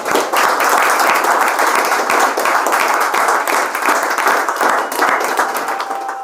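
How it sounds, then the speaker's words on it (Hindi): A room of people clapping loudly and steadily for several seconds after an MP Police final selection is celebrated, close and continuous without talk. "बहुत बहुत ताली बजा दो"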